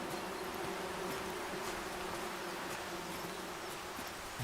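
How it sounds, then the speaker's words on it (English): Bees swarm near a nest in the forest survival game Among Trees, a steady, faint, continuous insect buzz with no talk over it. "we can hear bees again, but I can't see the bees."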